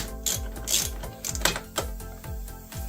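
A hand ratchet works loose the bolts on a Honda Pioneer 1000 air filter cover, giving rapid repeated clicking pawl strokes in short close bursts, with no talking.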